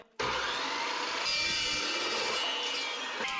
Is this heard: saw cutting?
yes